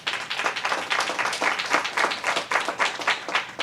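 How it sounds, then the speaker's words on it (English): Audience applause breaks out at a school board meeting, many hands clapping in a steady, fairly loud burst that holds for several seconds with no voices over it. "Madam Chair, I know we don't allow applause"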